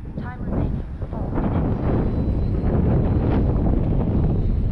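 Gusty wind buffeting the microphone at an RC flying field during a flight of an FMS CJ-6 V2 model plane, a loud, rumbling low roar that swells and stays steady throughout.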